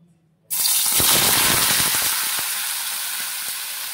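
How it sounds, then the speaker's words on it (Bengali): Vegetables hit hot oil in a wok for chow mein with a sudden loud sizzle that starts after a quiet moment and holds steady, with scattered clinks of stirring through it. "আর এই তেলেতে সবজিগুলো একটু ভেজে নিচ্ছি।"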